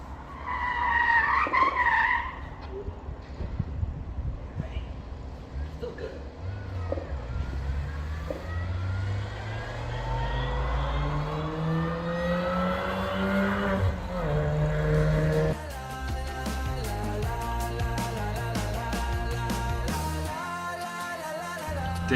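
A race car skids and spins on a track during the 2023 One Lap of America, with loud tire squeal and engine tones sweeping up in pitch, then steady, busy engine and road noise.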